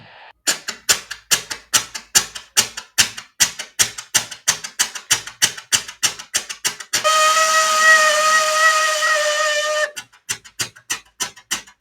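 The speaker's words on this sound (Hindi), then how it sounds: "ट्रेन की सीटी और पहियों की आवाज हर पर और नजदीक आ रही थी।" Steam train whistle with chugging wheels: a rapid train of sharp rhythmic clicks runs throughout, broken by a loud sustained whistle tone lasting about three seconds before the chugging resumes, close and prominent with no talk.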